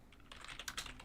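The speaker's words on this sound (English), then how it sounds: "Just spam typing a load of stuff quickly" Rapid burst of computer keyboard typing, close and fairly quiet, a fast flurry of key clicks with no voices.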